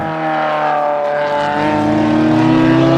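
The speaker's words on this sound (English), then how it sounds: "What I really like about the 355 is when you rev it," A tuned Ferrari 355 engine revs loud and close, a steady high-pitched wail that climbs slightly in pitch over a few seconds, with no talking.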